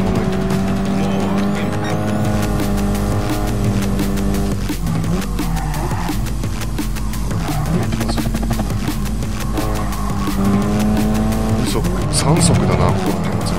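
A race car engine revs hard up a steep uphill section in third gear in a racing video game, with squealing tires and a steady, loud roar while someone talks over it.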